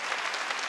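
A church congregation at a Wednesday worship service claps steadily throughout, a brief, dense burst of many hands.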